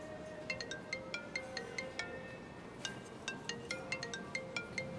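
A phone's melodic ringtone plays quietly in a drama scene, its short bright notes repeating in a steady pattern for several seconds with no talk.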